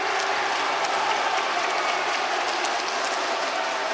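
Basketball arena crowd in a professional game between the Hsinchu Jko Lioneers and Formosa Taishin reacting to a foul call, a steady wash of cheering and clapping that holds at the same level throughout.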